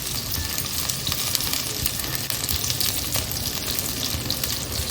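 Curry leaves sizzle loudly in hot oil for a mudpot chicken gravy, a dense, steady crackle and spatter close by with small pops throughout and no voices.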